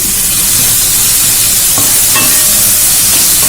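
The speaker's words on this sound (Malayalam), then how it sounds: "നമുക്ക് നന്നായിട്ടൊന്ന് വഴറ്റിയെടുക്കാം" Chopped tomatoes with salt sauté in a hot pan, sending up a loud, dense, continuous sizzle with a few faint stirring scrapes, close by and free of speech.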